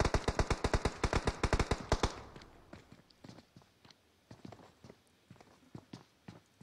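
Rapid automatic gunfire rings out in a video game battle, a fast regular burst of loud sharp shots for about two seconds, then scattered fainter single shots and pops spaced irregularly at a distance.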